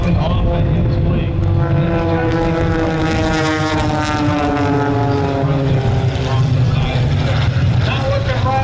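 A propeller aerobatic airplane at the 2012 Blue Angels Homecoming Airshow makes a loud, steady engine drone that shifts in pitch as it passes, with a commentator talking over it throughout.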